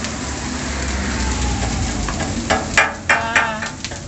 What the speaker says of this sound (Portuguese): Já tem calabresa aqui, ó. Fritando também.